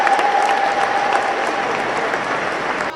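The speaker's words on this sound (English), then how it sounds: "Let's give him a round of applause for expressing himself." Audience applause at a Kenyan political gathering, a sustained dense wash of clapping from a crowd, steady and fairly loud for the whole stretch, with a faint whistle-like tone early on.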